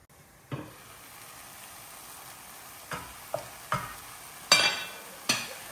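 Gongura leaves cook in a covered pan, with a faint low sizzle underneath and a handful of sharp clinks and taps from the pan or lid, spaced out and growing more frequent toward the end.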